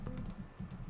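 Quick bursts of keystrokes on a computer keyboard while entering commands, a few soft clustered taps at close range in a quiet room.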